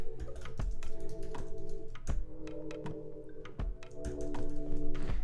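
Keys on a computer keyboard clacking in quick irregular bursts, close and fairly loud, with a few heavier thunks between the runs of taps while a name is typed into design software.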